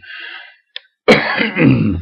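A close, raspy throat clearing, a short pause with a tiny click, then a harsh, rough cough that rumbles on for a moment.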